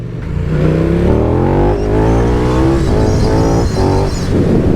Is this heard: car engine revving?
yes